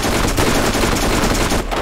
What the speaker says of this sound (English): I'm gonna use my spray gun so I can aim.